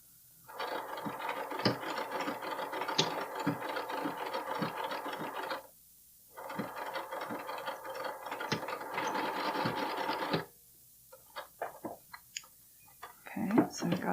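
A domestic sewing machine zigzag-stitches a bralette in two close runs of rapid mechanical clatter, each about five seconds long, with a short pause between them, followed by a few scattered clicks and handling noises.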